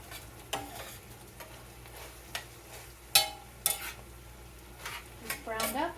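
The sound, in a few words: food cooking down and browning in a pan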